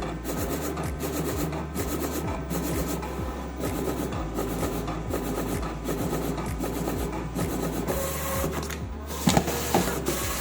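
A Teneth C6 Pro Plus label cutter feeds paper and cuts stickers, giving a continuous mechanical whir broken by regular rapid ticks and rubbing scrapes, steady and close throughout, with no speech.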